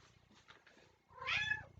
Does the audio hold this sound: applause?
no